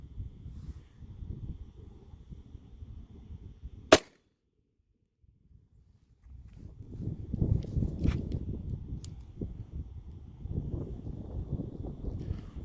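A single sharp gunshot from a 7.62x25 pistol firing steel core ammunition into a book outdoors. It cracks loudly once, followed by quieter wind and rustling.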